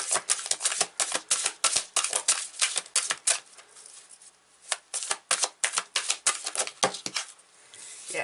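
Long tarot cards being shuffled, rapid bursts of crisp riffling and flapping clicks in uneven clusters, close and fairly quiet, with short pauses between bursts and no talking.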